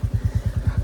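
A motorcycle on a rural road near Jalpa Bazaar in Nepal, its engine thumping in a fast, even low pulse, close and steady for just under a second.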